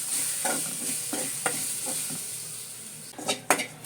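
Food fries in a little coconut oil for a Kerala-style varutharacha mutton curry, a constant close sizzle broken by rhythmic stirring scrapes and a few sharper metallic clinks of utensil against pan near the end, no speech.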